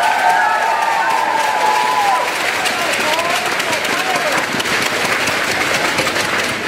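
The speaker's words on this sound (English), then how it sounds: "Let's give them a big round of applause." Loud, sustained applause from a large audience fills the space, with scattered cheers and whistles over dense clapping.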